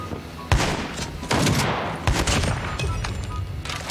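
Shotgun blasts in a first-person video game, four loud booming shots spaced about a second apart, each with a sharp attack and a rumbling tail, no speech.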